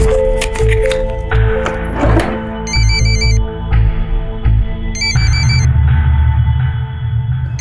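A phone rings repeatedly with an electronic ringtone, loud and close, its bright repeating tones sitting over a strong low musical bed.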